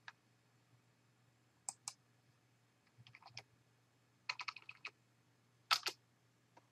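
Key clicks on a computer keyboard while a web address is typed, arriving in short separate bursts of rapid taps with pauses between them, close and fairly quiet over a low steady hum.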